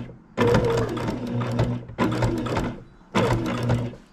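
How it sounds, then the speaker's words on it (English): A Baby Lock Jazz II sewing machine stitching quilt binding, running in three close, loud bursts of steady whirring stitches with short pauses between them. "I'll continue stitching and get a couple stitches in this part to hold it in place, and then I'll pivot my needle and continue sewing."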